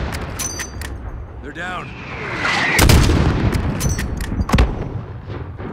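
Enemy gunfire in the shooter game Call of Duty Modern Warfare, sharp repeated shots and heavy booms scattered through a battle scene, with soldiers' voices calling out between bursts.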